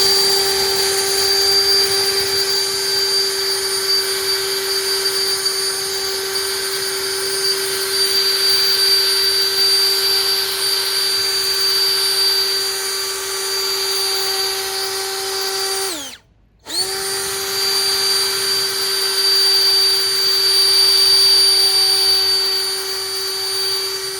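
A cordless leaf blower with a long nozzle runs at a loud, steady high-pitched whine. It cuts off briefly about two-thirds of the way through, then spins back up and keeps blowing.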